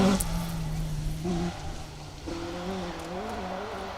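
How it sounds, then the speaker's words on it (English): A Ford Escort rally car driven by Jeff Phelps at full tilt on a 2WD stage of the Woodpecker Stages Rally roars past, its engine note rising and falling through gear changes at moderate distance, with speech faintly present. "There's no better sound than a rally car. Full tilt."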